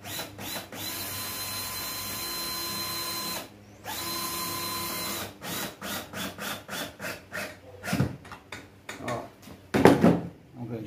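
A small drill boring a hole in a keychain piece, running in steady whirring bursts that stop and start, later breaking into shorter choppy pulses with louder grinding near the end.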